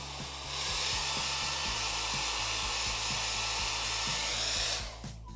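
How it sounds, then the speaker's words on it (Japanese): A hair dryer blows steadily on its cool setting while bangs are finished off, a close and constant whooshing with a low motor hum that cuts off near the end. "だいたい乾いたら仕上げに冷風で"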